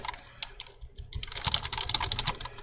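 Fingers type on a computer keyboard at close range, with quiet, irregular key clicks at first that build into a faster, denser run of taps toward the end.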